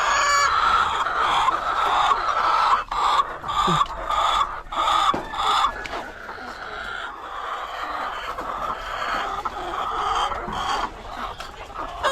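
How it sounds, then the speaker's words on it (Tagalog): A flock of chickens clucks busily, with roosters crowing now and then. The birds are close and loud, and the cackling chorus runs without pause. "Ganyan talaga yung mga manok na yan."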